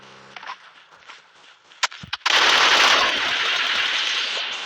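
Automatic gunfire in the PUBG Mobile video game, a loud sustained burst of rapid shots filling the second half after a few sharp isolated cracks and quieter game sounds.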